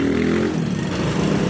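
A Yamaha Mio i 125 scooter engine with loose compression runs steadily at idle, a close, loud, uneven mechanical drone with no speech.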